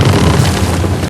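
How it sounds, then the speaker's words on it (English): A massive film explosion from Oppenheimer roars as a loud, dense, sustained rumble for about a second, then cuts off abruptly. "Seeing it happen and then the explosion afterwards"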